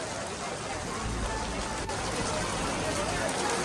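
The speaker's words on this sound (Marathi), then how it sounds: "पाऊस आलेला आहे" Steady rain pours down at Marleshwar during a crowded pilgrimage, in a dense, constant hiss, with faint voices mixed in beneath it.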